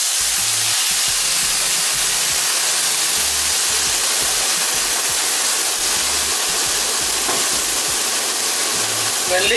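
Sauce is poured over tagliatelle and keema mince in a hot pan, giving a loud, continuous sizzling hiss that holds steady and close throughout, with a brief voice faintly underneath.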